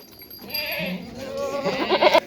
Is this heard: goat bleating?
yes